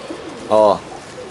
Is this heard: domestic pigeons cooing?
yes